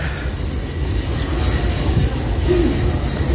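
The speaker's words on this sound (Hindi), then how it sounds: "पहुंचे हैं वाटरलू स्टेशन" A train at London Waterloo station, a loud continuous rumble of rolling wheels with a high metallic squeal running throughout, close and steady with no talk.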